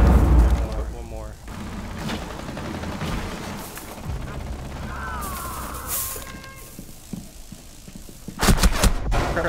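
Gunfire in the Rainbow Six Siege beta, in a team deathmatch bomb round on the Consulate map: scattered shots and impacts under ongoing game sound, ending in a loud close burst, with voices talking over it.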